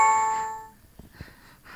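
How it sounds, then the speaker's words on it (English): A phone notification tone for an incoming tweet: a bright, ringing electronic chime with sustained tonal layers that fades out within about a second, followed by a few faint clicks and soft rustles. "Oh, there I'm getting a tweet right now."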